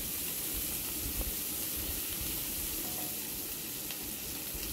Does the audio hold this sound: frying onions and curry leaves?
yes